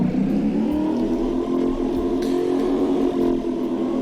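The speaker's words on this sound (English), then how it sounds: "we can also add a little bit of a distortion to make it sound more, well, more like a car engine" Synthesized car engine effect for a 2D top-down arcade racing game, a steady distorted buzzing drone with layered harmonic tones that sweep gently up and down, loud and continuous throughout.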